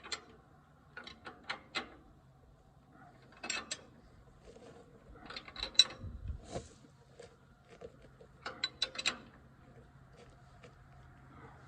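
Bolts are tightened on an IH Farmall Cub 22 mower: scattered ratchet clicks and small metallic ticks come in short clusters, faint and close, with a low hum underneath and no talking.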